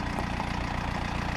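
An MTZ tractor engine idles close by with a steady, even diesel throb, a dense rumbling hum that holds unchanged throughout, with no voices.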